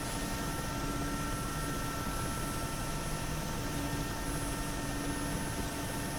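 Mi helicopter in the DCS flight game during a rolling landing, a steady droning rotor and turbine hum at constant loudness, with no voices.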